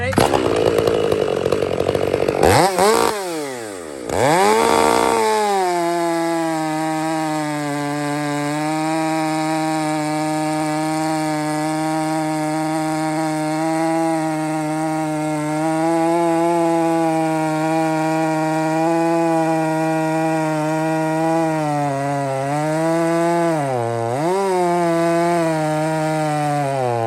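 A chainsaw with a square-filed chain cuts through a log, loud and close, revving up then holding a strained, steady pitch through the cut, with brief dips as the load shifts.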